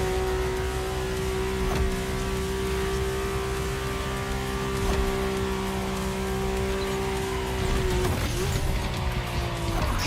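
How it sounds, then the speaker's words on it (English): A Mercedes-AMG One racing in The Crew Motorfest holds a steady high-pitched engine drone with tire squeal, loud and continuous throughout, shifting pitch near the end. "My ultimate appointment in this country was set with the breathtaking Mercedes AMG 1."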